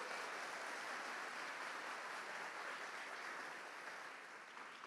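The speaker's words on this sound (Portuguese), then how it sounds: "vamos aplaudir essa palavra bem forte" A church congregation claps loudly and continuously, a dense wash of applause that holds steady and eases off slightly at the end.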